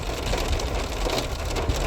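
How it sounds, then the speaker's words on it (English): Heavy rain falls in big drops on a cold, dark day with low spots flooding, a dense steady hiss of rain spattering on surfaces, close and continuous with no voices. "Everything's cold and it's raining. Big drops."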